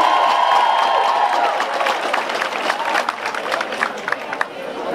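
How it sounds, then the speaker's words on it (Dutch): An audience claps at a choir festival prize announcement, a moderately close and steady patter of many hands with crowd murmur and a singing voice over it. "Een hartelijk applaus nog een keer"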